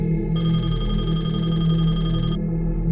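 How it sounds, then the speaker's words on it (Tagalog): An old office telephone in a factory in Taiwan rings with a steady, shrill electric bell for about two seconds, close and loud, over a constant low hum of machinery and an air compressor. "biglang tumunog ang lumang telepono"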